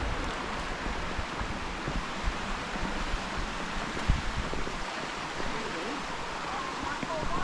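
In winter in Shenandoah National Park, a brook rushes downhill into a small waterfall, making a steady, close-by wash of water noise with occasional small splashes.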